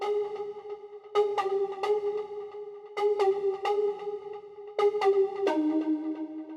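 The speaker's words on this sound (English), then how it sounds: "The character of that sound is a very plucky synth" A plucky synth plays a simple deep house melody of short, bright notes in a steady rhythm, clear and alone with no voices.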